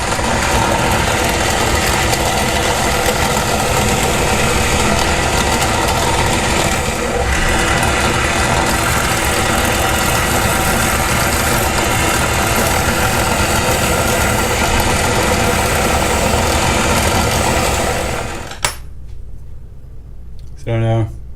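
A step bit drills holes in homemade white T-shirt Micarta fiberglass knife scales, giving a loud, continuous grinding whir for about eighteen seconds before it stops abruptly, leaving near silence.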